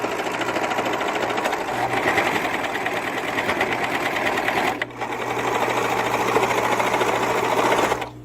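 A serger-style sewing machine hums loudly and steadily as it stitches and trims fabric edges for a girl's dress, with one brief pause before the run continues.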